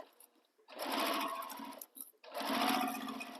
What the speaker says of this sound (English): So see how we're sewing with the folds, not against them